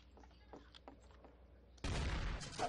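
A shotgun blast in Garry's Mod Trouble in Terrorist Town, a sudden loud burst breaking in after quiet game sounds and faint background noise.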